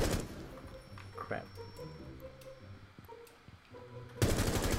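Gunfire in Rainbow Six Siege, with sharp bursts and a louder sustained volley at the end, mixed with game noise while a player speaks briefly.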